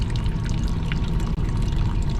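Water leaks from an HVAC four-pipe fan coil unit, giving a constant loud pouring, splashing rush that carries on unbroken and close.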